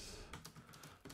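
Typing on a computer keyboard while entering text, a quick run of close, clicky keystrokes in an uneven rhythm with no talking.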